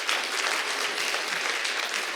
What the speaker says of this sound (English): Please, another round of applause for Miss Jillian Ward.